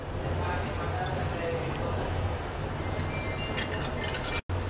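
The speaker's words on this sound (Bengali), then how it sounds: "কড়াইতে সরিষার তেল দিয়ে দিচ্ছি," Mustard oil poured into a wok, a soft trickling and dripping under a steady background hiss, with a brief cut near the end.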